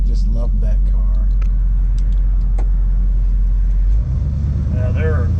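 A 1965 Plymouth Sport Fury convertible with a 383 Commando engine is driving, giving a loud, steady low rumble that continues throughout, with a brief shift near the end and faint voices beneath.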